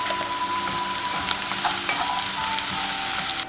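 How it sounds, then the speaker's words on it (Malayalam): Onion, ginger, green chili and curry leaves with salt sautéing for a restaurant-style egg roast, a loud, dense, continuous sizzle with a few stirring clicks over a faint steady whine, close and uninterrupted. "1 ടീസ്പൂൺ ഇഞ്ചി ചെറുതായി അരിഞ്ഞത്, 2 പച്ചമുളക് നീളത്തിൽ കട്ട് ചെയ്ത്, കുറച്ച് കറിവേപ്പില, ഇതെല്ലാം ആവശ്യത്തിന് ഉപ്പ് ചേർത്ത് നമുക്ക് വഴറ്റിയെടുക്കാം."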